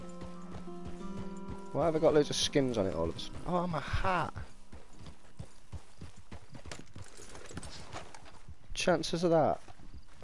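A horse's hooves clip-clop steadily in the Red Dead Redemption video game, with occasional whinnies as someone talks over the sound in bursts.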